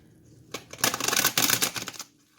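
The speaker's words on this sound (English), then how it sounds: "We're going to shuffle." Tarot cards are riffled and shuffled in a quick burst of crisp, dense flutter lasting about a second and a half, close and alone.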